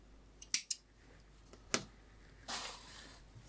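Scissors snipping crochet yarn to fasten off a left-handed mosaic granny square: a quick pair of close, crisp snips, another single cut, then a softer rustle of yarn in a quiet room.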